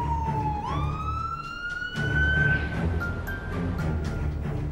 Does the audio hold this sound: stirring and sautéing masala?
no